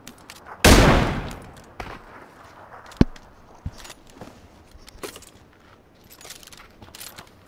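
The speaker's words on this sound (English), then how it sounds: "He's still shooting at me, but I'm behind a rock." Gunfire in the video game PUBG: a loud, close blast with a long ringing tail, followed by several scattered sharp cracks and softer shots at varying distances, with no talking.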